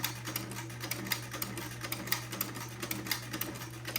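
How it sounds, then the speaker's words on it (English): A sewing machine fitted with a vintage buttonholer stitches a buttonhole for a 1/4-inch button, giving a rapid, even mechanical clatter with a steady motor hum underneath, close and alone. "and then slowly sew a buttonhole"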